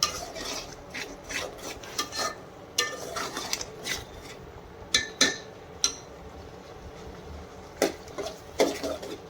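Kolhapuri misal masala being stirred and roasted in oil, with irregular scraping and rasping strokes of a spoon against the pan, sharp clinks over a quiet low sizzle.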